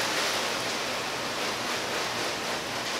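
Flat spray from a garden hose nozzle strikes car paint freshly coated with Griot's Garage Ceramic 3 in 1 Wax, making a loud, steady, close-up hiss that runs unbroken from start to finish with no talking.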